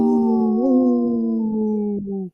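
A wolf gives a single sustained howl, smooth and tonal, with a slight rise partway through before it sinks and cuts off. It is loud, close and alone.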